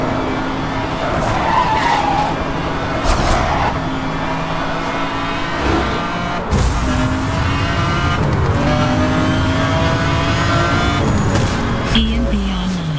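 Cars skid and race in Need for Speed Hot Pursuit on PC, a steady loud roar of engines with long tire squeals and skids running throughout, plus short bursts of impact noise. A voice speaks briefly over the driving.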